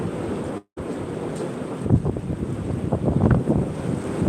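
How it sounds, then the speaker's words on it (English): Strong wind blows steadily and loudly across the microphone outdoors, with rumbling gusts and buffeting. A brief dropout interrupts it near the start, and the gusts swell stronger in the second half. "God is sending the wind down"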